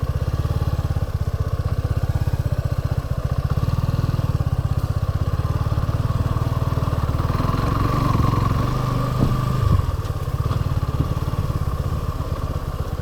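A Suzuki V-Strom 250 motorcycle rides off-road at dawn, its engine droning loud and steady throughout with a close, continuous mid-pitched rumble and faint clatter.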